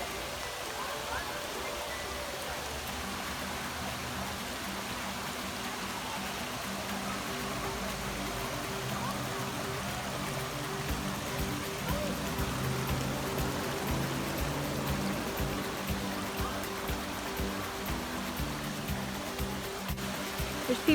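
Waterfall at Thurmont where people swim and climb the falls, a steady broadband rushing of falling water that holds constant and fairly close throughout, with no clear speech.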